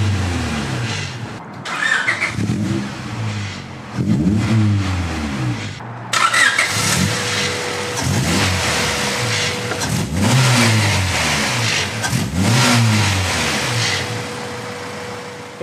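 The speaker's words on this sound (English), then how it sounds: "We'll fire it up here." A 1998 Honda Integra Type R, a JDM import with an aftermarket radiator, starts and then revs repeatedly, several sharp rising and falling bursts over a steady idle, loud and close, with no talking.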